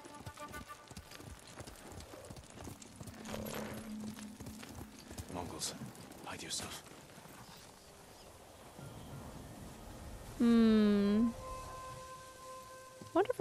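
Horse hooves clip-clop faintly in Ghost of Tsushima, soft rhythmic steps under a player's talk and game music, with a brief loud tonal sound near the end.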